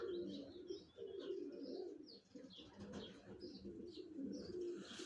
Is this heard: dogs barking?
no